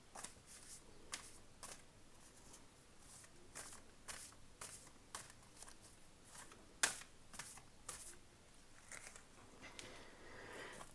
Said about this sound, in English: this deck is huge. It's really not easy to shuffle